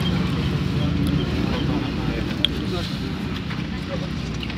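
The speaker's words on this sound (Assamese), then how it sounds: "এতিয়া বতাহ দিছে" Steady wind buffets a microphone outdoors during a police drug raid, a continuous low rumble of gusts filling the whole stretch, with a brief knock partway through.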